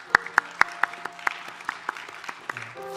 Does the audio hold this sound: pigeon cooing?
no